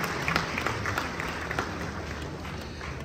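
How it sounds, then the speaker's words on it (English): An audience in Jubilee Hall applauds with dense, continuous clapping that holds steady throughout, a lively crowd sound at moderate loudness. "A round of applause for yourself."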